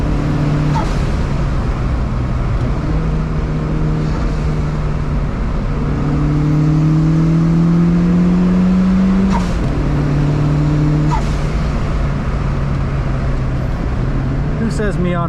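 A turbocharged Mazda Miata engine drones loudly off-road, its pitch slowly rising as it builds boost and gains speed, with steady road and wind rumble throughout.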